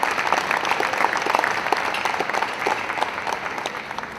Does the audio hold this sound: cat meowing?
no